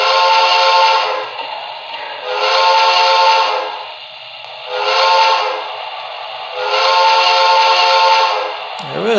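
A BLI PRR Q2 Duplex model steam locomotive sounds its whistle in four sustained, evenly spaced blasts, clear and bright, with a brief hiss at the end.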